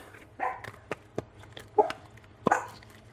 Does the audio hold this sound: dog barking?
yes